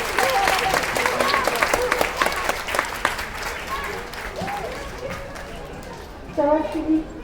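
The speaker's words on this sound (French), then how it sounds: "je vais vous demander d'applaudir très très fort le Rotary" An audience at a show at the Nausicaa aquarium applauds loudly for the Rotary, a dense burst of clapping under chatter and raised voices, with a brief fresh swell of claps near the end.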